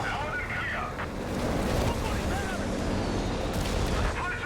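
Nebelwerfer rocket artillery firing in Company of Heroes 3 makes a dense rumble of launches and blasts with a roaring, windy texture, continuous and fairly loud over the full stretch.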